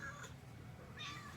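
A cat meows twice, short plaintive cries separated by a brief pause, fairly close but soft against a quiet background.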